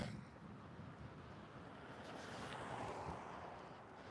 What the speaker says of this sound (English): It's that wind.